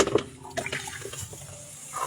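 Water runs and splashes while being fetched, an irregular gurgling and trickling close by with small bursts of louder splashing.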